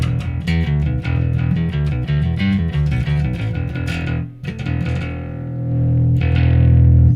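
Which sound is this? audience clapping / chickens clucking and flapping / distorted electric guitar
distorted electric guitar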